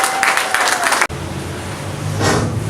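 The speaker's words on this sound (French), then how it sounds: "Applaudis le Seigneur." A church congregation bursts into applause, a dense wash of clapping that stops abruptly, then swells again more softly near the end.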